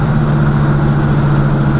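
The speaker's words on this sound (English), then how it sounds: "But this car sounds so good." A Box Chevy car cruising in the rain gives a steady, loud engine and road drone with a strong low hum throughout, heard from inside the car.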